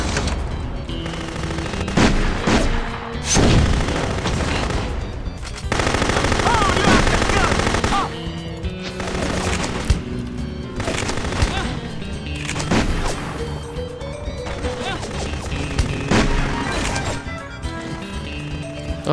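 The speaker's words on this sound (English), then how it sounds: "Okay, micro missiles out." Rapid weapon fire and explosions in No One Lives Forever 2 as micro missiles launch, a dense run of loud cracks and bursts lasting the whole stretch, with a game soundtrack underneath.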